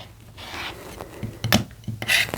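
Rotary cutter slicing quilt block fabric along a ruler, a few short scraping strokes that grow louder toward the end, close and without talk.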